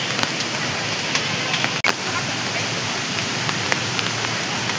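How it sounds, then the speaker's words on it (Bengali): Heavy rain pours steadily at a hill station in Yercaud, a dense, even hiss with scattered drops tapping nearby and one brief sharp knock. "খুব বৃষ্টি হচ্ছে এখানে এখন"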